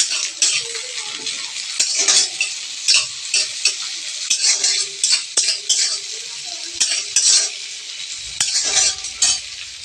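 Chopped tomatoes stir-fry in an iron wok with a loud, close sizzle. A spatula scrapes and knocks against the metal in an uneven rhythm throughout, with no voices.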